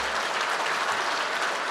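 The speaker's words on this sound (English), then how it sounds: "Please give Kevin a round of applause" Brief, steady applause from a seated banquet audience fills the room evenly, dense clapping with no pauses or voices.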